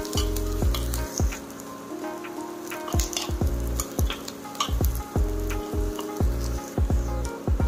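Cabbage Manchurian fries in hot oil in a pan with a loud, continuous sizzle, punctuated by frequent sharp clicks and scrapes of a utensil stirring at an irregular rhythm.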